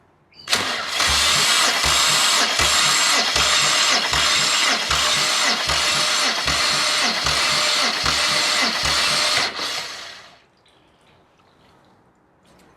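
A BMW N54 twin-turbo straight-six in a 335i E90 cranks steadily on the starter for about nine seconds during a compression test, a loud, even rhythmic chug that stops abruptly, leaving quiet room tone.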